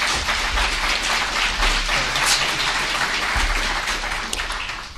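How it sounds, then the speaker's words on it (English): Steady applause from a crowd at a city council candidate forum in Rockwall, Texas, dense and sustained clapping filling the room for several seconds with no one speaking. "we all should give a round of applause to all of these candidates"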